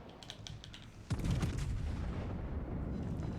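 A high-explosive salvo from warship guns in World of Warships Legends lands as one loud, sudden boom followed by a sustained rumbling roar, with light keyboard-like clicking heard beforehand.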